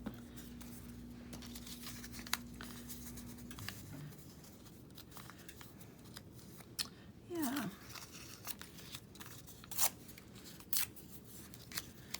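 Scissors trim paper scraps for junk journal clusters. Quiet, scattered snips and crisp paper rustles come close by, with a low hum at the start.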